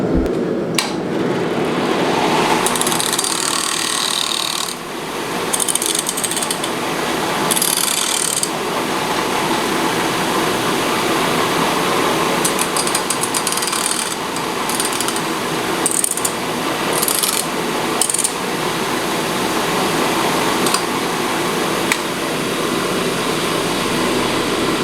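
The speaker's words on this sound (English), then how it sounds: "Hit it too hard, so I'm going to grind that off and forge it a little more." An angle grinder grinds a cold shut off a forged steel center punch, a loud, continuous harsh rasp close by that keeps shifting in intensity with short breaks and bursts of metallic chatter.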